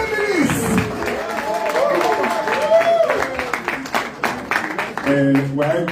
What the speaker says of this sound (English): Ladies and gentlemen, with a round of applause, let's make welcome Dr. Pedro Obaseki to address us for 10 minutes.